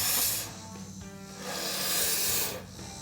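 Spray foam hisses from a can nozzle sealed with black electrician's tape as it fills a fiberglass pool step, coming in two close, moderately quiet bursts with a short pause between them.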